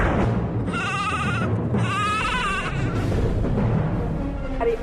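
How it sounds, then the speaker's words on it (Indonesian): A goat bleats twice in long, wavering, nasal cries close by, loud and clear over a steady background murmur. "Ini dia nih, kambing yang mengganggu Tong Bajil tidur."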